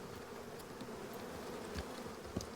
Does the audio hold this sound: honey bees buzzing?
yes